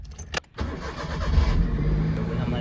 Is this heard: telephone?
no